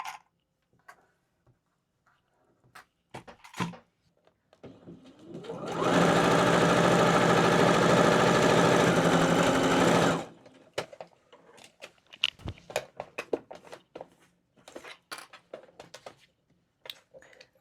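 A sewing machine stitching a seam on trousers runs in one steady burst of fast, even whirring for about four seconds, framed by quiet handling clicks and rustles of fabric before and after.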